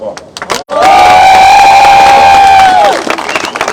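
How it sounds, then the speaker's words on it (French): A crowd cheers and shouts together at a boat christening, a loud sustained roar with a high held voice rising over it for about two seconds before fading, with some murmuring at the edges. "on va faire une petite répétition d'applaudissements"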